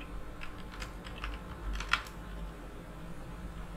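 A computer keyboard clatters as text is typed into a table in Microsoft Word 2010, with quick uneven keystrokes and one sharper click, fairly close over a faint background hum.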